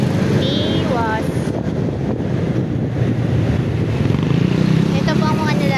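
Strong outdoor wind in Barangay Biwas buffets the microphone with a constant low roaring rumble, while a voice talks over it.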